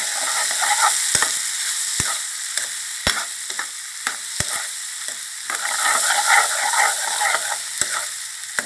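Squash stir-fried with shrimp and egg in a pan, a bright steady sizzle broken by repeated sharp scrapes and clacks of a spatula against the pan, close and alone.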